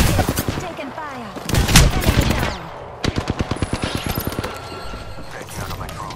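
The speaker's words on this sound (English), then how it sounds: "Taking fire." Rapid automatic gunfire in the Apex Legends battle royale shooter, a loud burst of dense shots followed by a steady rhythmic string of single rounds, with background game sounds around it.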